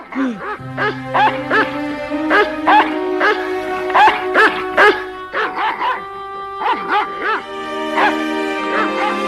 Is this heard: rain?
no